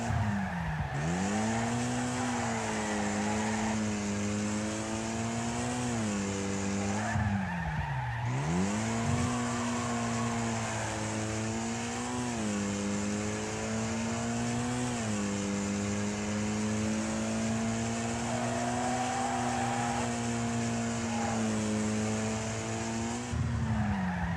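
Race car engines on the final lap of a Wreckfest race, a loud close engine drone that climbs and falls through gear changes, with tire squeal and skidding woven through the steady roar.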